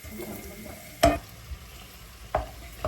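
Onions sizzling in hot oil in a pan in a home kitchen, a soft steady fry close up with two sharp knocks of stirring against the pan.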